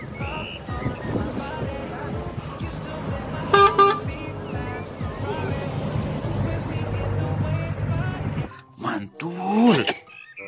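Box truck with a horn honking amid busy traffic noise, one sharp horn blast standing out in the middle, with a voice speaking near the end.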